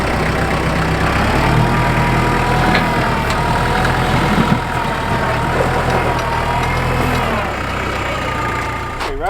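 An excavator's diesel engine runs loudly and continuously at a building site where electrical conduit is being laid to a garage, holding a steady, heavy rumble with slight shifts in pitch.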